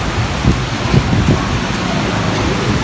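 Rain falls over a guava orchard as a steady broadband patter, with a few soft, heavier drops or gusts thudding near the start, moderately loud and unbroken.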